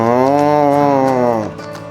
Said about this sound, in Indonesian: tiba-tiba seekor kerbau melintas di dekatnya.